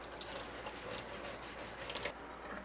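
Cold water and a small scrubby pad scrub a printed glass piece clean, giving a steady close wet swishing with light rubbing bursts that stop near the end.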